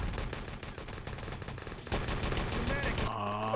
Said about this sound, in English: That rifle shot, I think, hit the lip and then just went straight up